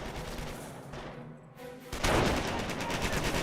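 MG42 machine gun fire in the Company of Heroes game, loud sustained bursts of rapid gunfire amid battle noise, easing briefly before a heavier, denser volley takes over.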